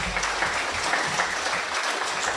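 An audience at a corporate university launch event for Indonesia's ATR BPN ministry breaks into loud, close, continuous applause, with dense clapping throughout.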